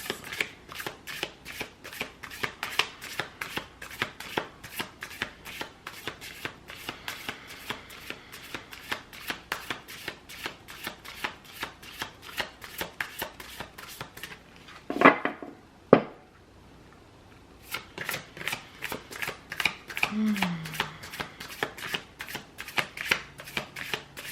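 Oracle cards are shuffled by hand in a long run of quick, even riffling clicks, close and crisp, broken once by a brief pause and a few louder knocks before the steady shuffling resumes.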